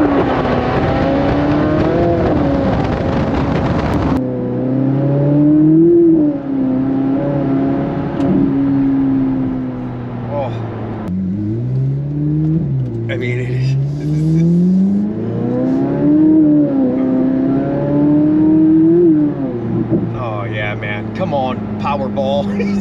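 A 2021 Chevrolet Corvette C8 race car engine revs loud and close, its pitch climbing and falling repeatedly through acceleration and gear changes, with a voice speaking over it.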